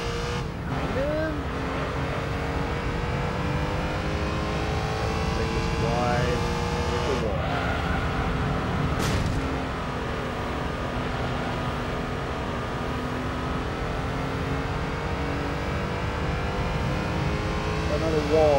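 Race car engine in Gran Turismo 3 A-Spec, a Type-R Challenge beginner league race, droning steadily throughout with rising and falling revs and gear changes, loud and continuous, with talk over it.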